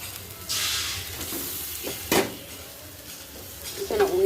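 Fish is stirred and braised with onions in a frying pan rather than deep-fried. Bursts of sizzling rise and fall with sharp spatula scrapes and clinks against the pan, close and fairly loud.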